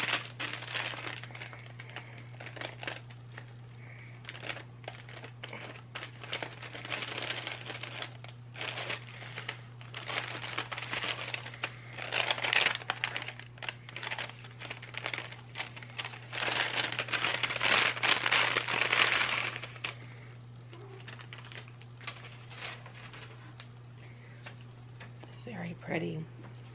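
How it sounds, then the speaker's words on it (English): Advent calendar packaging is opened, with paper crinkling and rustling in bursts that swell and fade up close, under quiet talking. "So I'm gonna be opening up day 5 of the Advent calendars."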